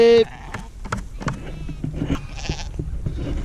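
A sheep gives a short, clear bleat close by at the start, then a farmyard with livestock and a guardian dog continues with scattered thumps, rustles and softer animal sounds.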